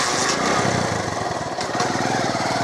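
A tractor engine runs steadily and close by, a continuous rough, pulsing mechanical drone with no voices over it.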